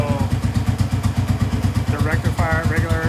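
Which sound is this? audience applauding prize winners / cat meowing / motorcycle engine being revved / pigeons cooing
motorcycle engine being revved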